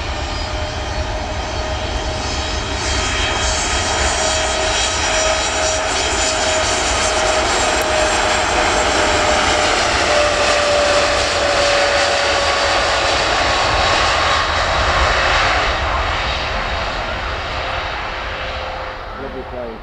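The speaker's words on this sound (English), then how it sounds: "lovely plane." Steady, loud propeller airplane engine drone holding for the whole stretch at an airport with cargo traffic, a constant hum with a faint tonal whine, people talking over it.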